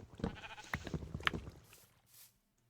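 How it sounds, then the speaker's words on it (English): Sheep bleating and footsteps in Minecraft, a few close bleats scattered over about two seconds before the sound fades to quiet. "Sound of that sheep walking scared me."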